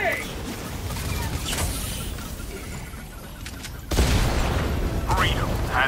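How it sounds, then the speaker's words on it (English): A grenade explodes in a video game with a sudden heavy boom about two-thirds of the way through, set against clattering combat noise and in-game voices. "Throwing grenade!"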